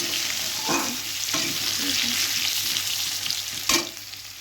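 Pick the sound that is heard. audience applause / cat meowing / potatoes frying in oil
potatoes frying in oil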